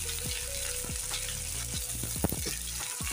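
Cut potatoes sizzling and frying in hot oil together with okra, a steady dense crackle with a few louder stirring clatters, no talking.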